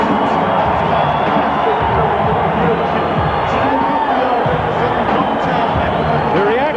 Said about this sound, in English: The reaction is mixed, but mostly applause and cheering.